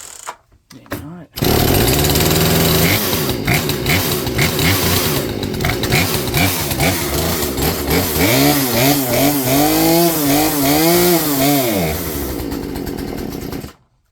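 A Poulan chainsaw fitted with a new Hipa carburetor starts after a brief sputter, then runs loud and close with a rough, surging idle and revving pitch that rises and falls before cutting off near the end.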